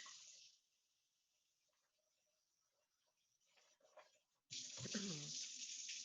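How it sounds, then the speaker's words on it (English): Beans rinsed under a running kitchen tap, with a brief faint splash at the start, a quiet pause, then loud steady gushing water filling the last stretch. "Then we're just going to give them a quick rinse."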